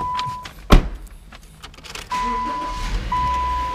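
A used Subaru Legacy L starting up: a sharp thunk and brief crank, then the engine catching into a steady idle with a chime tone inside the cabin, under a voice.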